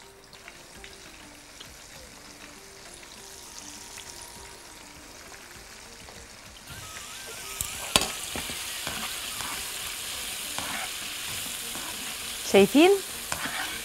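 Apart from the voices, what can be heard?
floured chicken frying in very hot oil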